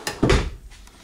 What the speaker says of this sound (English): You've got full ball bearing drawer guides.